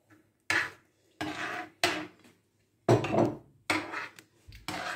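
A spoon scrapes and clanks around a pot of cooking semolina porridge in several separate bursts of close metallic stirring, with short quiet gaps between them.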